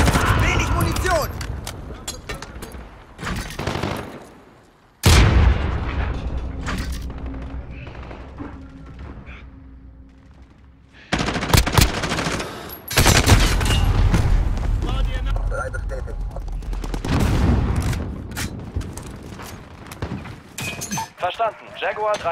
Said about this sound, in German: Cluster-Schlag gestartet.